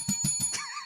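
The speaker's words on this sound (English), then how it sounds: "I already rang the bell" A small desk bell is struck three times in quick succession, bright and close, the last ring left to fade into a wavering metallic hum.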